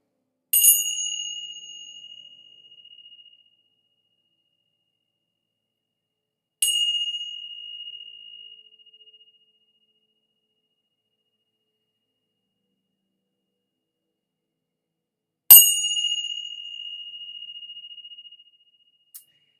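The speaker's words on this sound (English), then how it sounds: "I'm gonna ring my bells" Three bright metallic bell strikes, each ringing clearly and decaying slowly in otherwise silent surroundings, spaced irregularly several seconds apart, near and clean.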